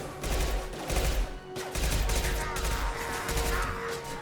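Sustained gunfire in the video game Mass Effect 2, a loud, continuous barrage of rapid shots with only a brief dip in the middle, dense battle noise throughout.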